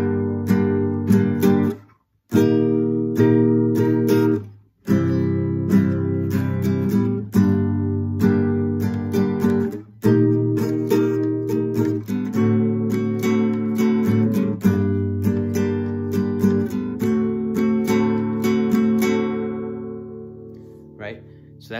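Acoustic guitar playing the opening of a verse of a song, steady picked chords and ringing notes with a few brief pauses, close and clear with no talking.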